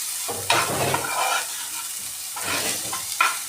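Onion and okra sauté in a pan for masala bhindi, giving a steady close sizzle broken by a few scraping stirs of a spoon against the metal.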